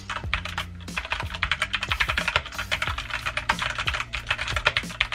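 Rapid clicking keystrokes on a Red Dragon computer keyboard, a close, steady stream of typing with no speech.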